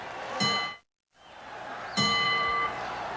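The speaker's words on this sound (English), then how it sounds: "the bell for round 7, scheduled for 12" A ringside boxing bell strikes twice to open round seven of the first Muhammad Ali–Ken Norton fight, each clear metallic ding ringing out over faint arena crowd noise.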